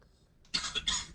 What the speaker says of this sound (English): I can hear you coughing